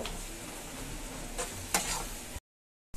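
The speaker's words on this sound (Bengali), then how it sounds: "এখন আমি দিয়ে দেব টমেটো। আর এই টমেটোগুলো আমি একদম সসের মতো করে নিব।" Tomatoes hiss and sizzle in a pan of frying onions while a spoon stirs, a steady close frying texture with a couple of sharp scrape accents before a brief dropout.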